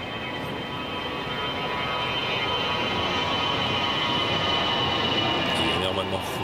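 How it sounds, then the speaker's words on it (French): A fixed-wing airplane passes over the Flushing Meadows tennis court during a US Open match, a steady broadband engine roar that swells slightly and holds loud throughout with no talk over it. "L'avion apparemment qui passe sur Flushing Meadow."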